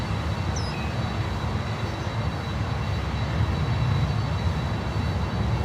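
A Delta heavy jet landing on runway 9 at Miami International, a loud, continuous low engine rumble and roar close by, holding steady throughout with a slight swell near the end.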